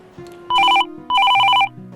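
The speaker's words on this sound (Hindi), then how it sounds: "देखो किसका टेलीफोन है" A telephone ringing in two loud electronic warbling bursts with a gap between, heard indoors over quiet background tones.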